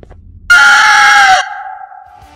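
Tarta bird monster voice from the Rainbow Friends video game, a single loud rooster-like crow that bursts in suddenly, holds a strained harmonic cry, then trails into a fading tail.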